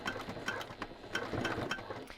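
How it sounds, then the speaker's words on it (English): Sewing machine stitching slowly through three layers of a double-zippered pouch bag near its bottom edge, a faint, rhythmic mechanical clatter with evenly spaced ticks. "We're just sewing through those 3 layers, and we're sewing close to the bottom"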